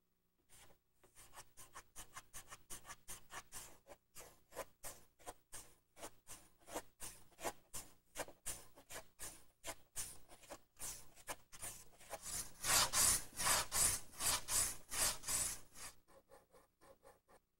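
Bevels on a wooden boat panel are trimmed with a steady run of rhythmic rasping strokes, close and moderately loud, growing heavier near the end before stopping, with no talk.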